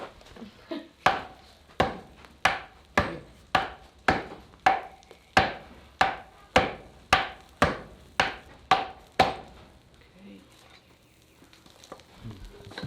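Hammers strike a hot iron bloom fresh from a smelt to knock off slag at a blacksmithing session, about fifteen sharp, evenly paced metallic blows landing close and loud, then stopping and leaving near quiet.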